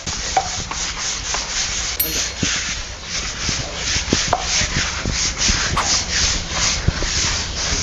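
Thick moss being scrubbed off a floor with a brush: steady, close, rough rubbing strokes in a continuous rhythm, with occasional small knocks and clicks.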